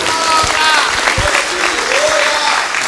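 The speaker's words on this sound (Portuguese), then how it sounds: "Aplauda o Senhor, queridos." A church congregation claps together at a Brazilian worship service, a loud steady burst of applause with a few voices calling out over it.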